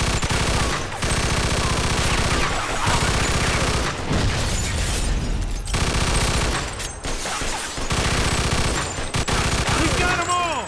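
Sustained gunfire in the Mafia II: Definitive Edition video game, dense rapid automatic bursts and heavy booms filling nearly the whole stretch, loud and close, broken by a few brief pauses, with game music or voices faintly underneath.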